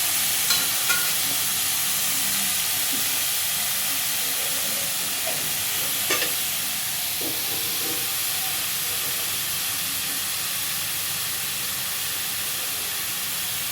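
Paneer masala curry roasting in a pan, giving a steady loud hiss and sizzle with occasional soft scrapes from stirring, continuous throughout.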